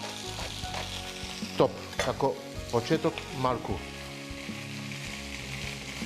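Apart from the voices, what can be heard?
food frying in oil in a pot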